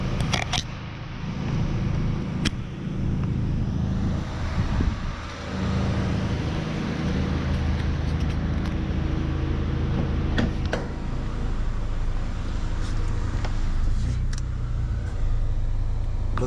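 A Honda car engine idles, with the idle reportedly surging, heard as a continuous low mechanical hum held steady for about sixteen seconds with a few faint clicks and ticks on top.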